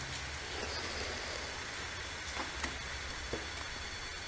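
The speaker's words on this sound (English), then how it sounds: "Here comes the rain." Rain falling at a cemetery, a soft, steady wash of noise with a low rumble underneath and a few faint taps standing out, quiet and continuous without speech.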